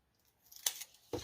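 Scissors cut a die-cut vellum butterfly in half with a couple of soft, quick snips, close and quiet against near silence.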